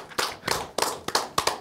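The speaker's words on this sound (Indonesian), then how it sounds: "Boleh tepuk tangan." A few people in a stand-up comedy audience clap in sparse, distinct bursts, about six sharp slaps spread unevenly across a short moment, close and fairly loud with no talking.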